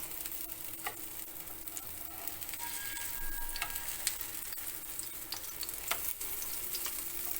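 Spoonfuls of kaşık dökmesi batter fry in a pan with a steady, soft sizzle and faint crackle, broken by occasional small ticks and pops, with no voices.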